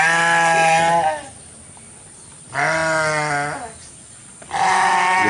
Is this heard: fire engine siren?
no